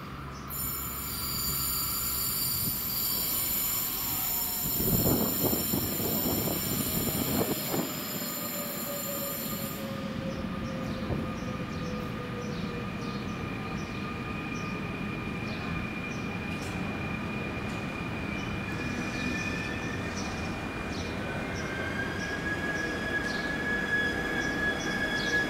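Fertagus 3500 and Comboios de Portugal 2240 electric multiple unit trains at Pinhal Novo station, with loud wheel squeal, a steady motor whine and rumbling that continue throughout, plus a brief burst of clatter early on.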